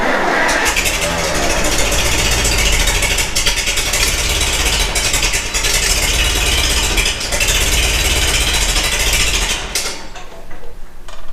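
A small engine, just started with the choke applied, idles loud and close with a steady, rough drone, then drops away near the end.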